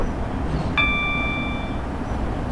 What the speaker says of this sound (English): That ding dong I don't need to acknowledge.